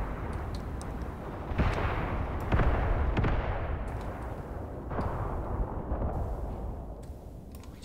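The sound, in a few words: mortar strike explosions in Graviteam Tactics video game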